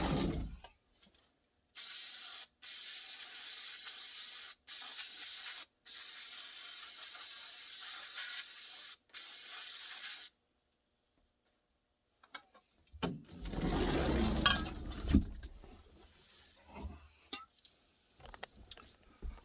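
Non-chlorinated brake cleaner sprayed from an aerosol can onto a mold to strip release agent, heard as several loud, close hissing bursts separated by short pauses, followed by quieter handling noises.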